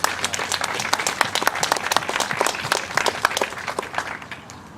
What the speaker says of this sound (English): I would like to give a round of applause to you